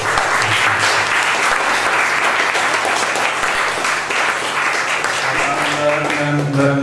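A cafe audience applauds after a live music night, steady dense clapping that fills the whole stretch, close and loud, with a few voices talking underneath.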